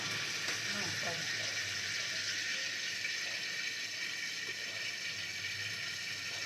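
Soft, continuous sizzle of tempering spices frying in hot oil for Gujarati dal, fairly faint, with occasional faint clinks and a few indistinct voice sounds in the background.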